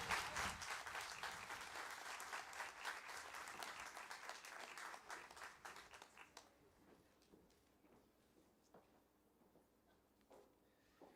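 Graduation ceremony audience for the Insight PA class of 2021 applauds a student speaker, a dense burst of many hands clapping that thins and fades over the last few seconds.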